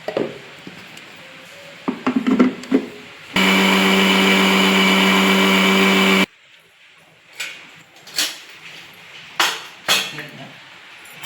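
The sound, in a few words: mixer grinder grinding coconut into paste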